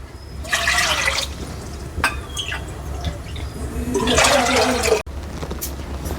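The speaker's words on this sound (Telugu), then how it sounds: "ఒక గిన్నెకి మంచిగా ఒక 3 గిన్నెల నీళ్ళు వేసుకుందాం" Water is poured from a bowl into a pot in a few separate splashing bursts with short pauses between them.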